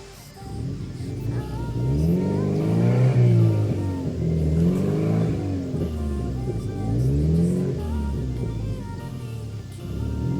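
A Subaru Impreza engine revs repeatedly while the car tows a 2001 Impreza 2.5 RS into a garage, rising and falling in several drawn-out swells at moderate distance.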